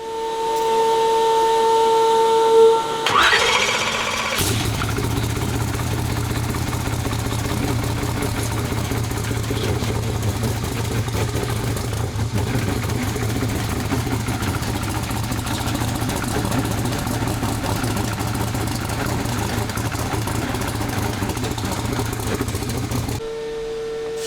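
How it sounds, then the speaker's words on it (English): A boosted car engine warming up idles steadily and loudly for about twenty seconds, with a low, constant drone. A brief higher-pitched tonal hiss at the start gives way to the running engine, and there is no speech. "So engine's idling"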